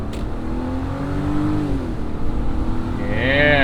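A BMW 330Ci pulls out onto the road, its engine revving up steadily and climbing in pitch through a short, close acceleration, with a brief shift near the end.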